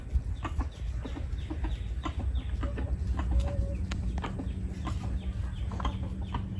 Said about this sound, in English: We have baby turkeys.